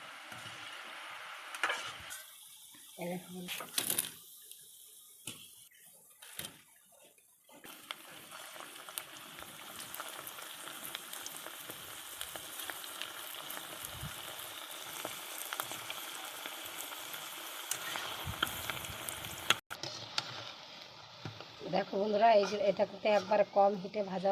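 Round chicken and jackfruit balls fry in hot oil over medium heat, a continuous bubbling sizzle with scattered clinks and handling noises, while someone talks over much of it.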